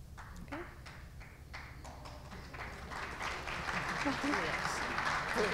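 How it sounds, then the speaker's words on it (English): An audience at a business career-week panel breaks into applause for the panelists, starting with a few scattered claps that build into fuller, denser clapping toward the end. "we can give them a round of applause if you guys want so far"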